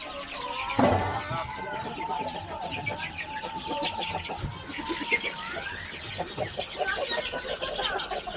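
Farm chickens on a small hobby poultry farm, with hens and roosters, cluck steadily in a busy, overlapping chorus, with a louder burst early on and scattered calls throughout, close and lively.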